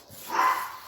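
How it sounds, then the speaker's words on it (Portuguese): A single brief dog bark or yip heard from a distance, faint and softened, rising and fading within a second against quiet indoor background. "os cachorros saem latindo"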